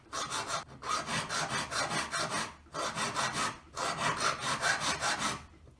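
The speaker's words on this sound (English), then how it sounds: "taking a coarse, flat file. Just turning it around, filing a little bit, until I've got the whole surface evenly filed." Coarse flat file rasping across a metal wedding ring, rapid rhythmic strokes in three bursts separated by brief pauses, close and fairly quiet.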